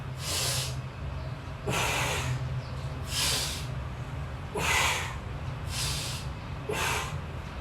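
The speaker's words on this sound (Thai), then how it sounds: "เราผายปอดกั้นลมหายใจแล้วก็เป่าปากออกยาวๆครับ อย่างนี้ครับ" During a morning exercise routine, a person blows six long, forceful breaths out through the mouth, each a breathy hiss spaced roughly a second and a half apart, close to the microphone.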